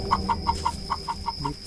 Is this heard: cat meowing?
no